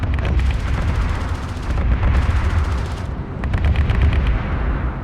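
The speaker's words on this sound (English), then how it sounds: "Some of the more unique sounds in the game include the air-to-ground fire support" Air-to-ground fire support in Homeworld: Deserts of Kharak rains down as rapid, loud bursts of gunfire and explosions, a dense rumbling barrage with brief pauses between volleys.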